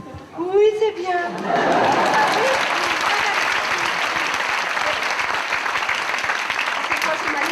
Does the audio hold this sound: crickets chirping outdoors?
no